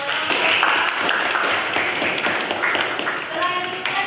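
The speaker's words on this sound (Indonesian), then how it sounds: "Beri tepuk tangan buat" Applause from a classroom audience during group presentations at a university practicum, steady clapping of a modest group, moderately close, with voices mixed in.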